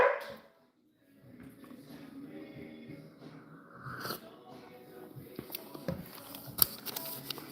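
Dogs in a house, heard as scattered yips, whimpers and short barks over a busy, moderately loud background, with small clattering noises building toward the end.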